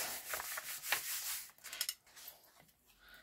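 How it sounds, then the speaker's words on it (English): A rubber stamp rubbed back and forth on an old cloth ink pad, soft close scratchy scrubbing strokes in short bursts, quiet and unaccompanied. "This is the old cloth pad. I'm going to rub it off."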